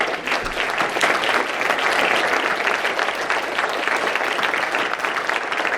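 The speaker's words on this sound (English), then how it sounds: "Another round of applause for all these gentlemen." Sustained applause from a large community crowd at a 9/11 remembrance gathering in Horry County, thick continuous clapping that swells slightly early and stays strong for several seconds.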